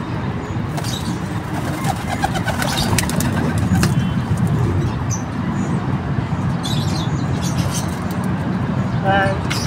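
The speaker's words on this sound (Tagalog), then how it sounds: "Lipad na yung kalapati natin." Domestic pigeons coo and flutter as they fly out of their loft, over a steady background rumble of traffic, with a person talking and a few brief bird calls.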